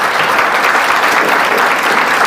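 Loud, dense applause from an audience welcoming a top-ranking student at a coaching institute ceremony, a continuous roar of clapping with no voices.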